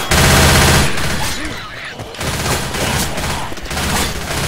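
Rapid gunfire bursts from a Left 4 Dead 2 co-op zombie level in The Parish, loud and dense, with overlapping weapon fire and booms running continuously throughout.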